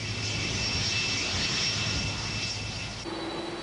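Steady, loud roar of a Boeing 747-400 jumbo jet engine with a high whine running through it. The sound holds constant throughout and shifts in tone near the end.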